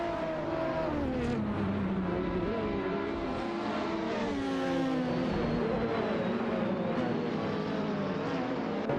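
AI-driven race cars in a video game, several engines whining and shifting pitch as they pass and overlap in a continuous, steady roar with no talk.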